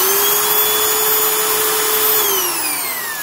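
A Makita 6510LVR 3/8-inch carpenter's drill with a small 3-amp motor runs at high speed, giving a loud, steady high-pitched whine over airy fan noise that begins to drop in pitch as it winds down near the end.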